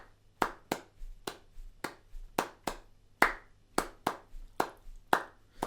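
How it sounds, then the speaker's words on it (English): Hand claps tracing the most common clave rhythm, about a dozen close, crisp claps in a syncopated repeating pattern, quiet and alone without any voice. "That is the most common clave"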